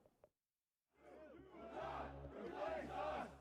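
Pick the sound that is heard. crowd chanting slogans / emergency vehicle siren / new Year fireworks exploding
crowd chanting slogans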